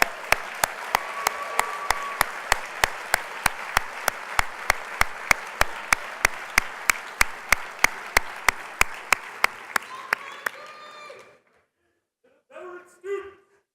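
Audience at a student veterans' awards banquet applauds for about eleven seconds, with loud, sharp claps standing out rhythmically over the crowd before it falls quiet; brief voices follow at the end.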